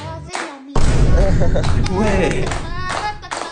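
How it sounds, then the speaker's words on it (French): Children and adults clap together at a child's birthday party, a dense burst of applause running under loud excited chatter and children's voices close by. "Les copains et les copines, on applaudit"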